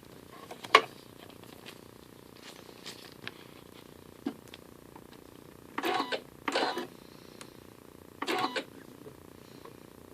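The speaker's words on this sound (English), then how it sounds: "So I'm going to sew this first one up real quick." A sewing machine stitches vinyl pieces for a key fob wristlet, running in three short, moderately loud bursts against a quiet room background with scattered small clicks.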